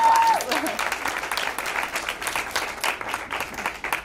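Audience applause for fourth graders after their Spanish presentation at a school event, steady clapping from a crowd of parents and students that opens loud and settles to a moderate level, with a short tone at the start.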